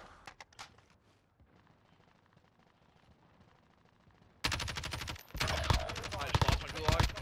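Gunfire in a Call of Duty Warzone gulag fight begins with a few sharp shots, fades to a quiet lull, then erupts into loud, rapid automatic bursts that continue to the end.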